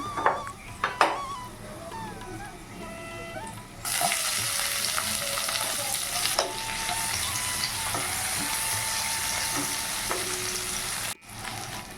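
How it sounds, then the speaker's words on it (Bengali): Chopped onion goes into a pan of frying potatoes and crackles in a loud, dense, continuous sizzle, with a utensil clinking and scraping now and then as it is stirred, close up and without voices. "এখন এর মধ্যে দিয়ে দেবো কেটে রাখা পেঁয়াজটা"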